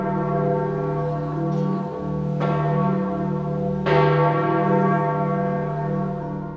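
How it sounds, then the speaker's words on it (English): A large Vatican church bell tolls with deep, sustained ringing. Strong new strikes land every second or so over a continuous, resonant hum. "The loud clanging of a Vatican bell also mourned his death."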